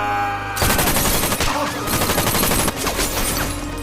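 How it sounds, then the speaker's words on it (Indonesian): Film gunfire as a machine gun sprays bullets during a shootout in the 2019 movie Lucky Day: loud, dense rapid bursts of automatic fire that continue almost without pause, close and dominant, with no talk over them. "Luke tiba-tiba muncul dan langsung memberondongkan peluru ke arah Red"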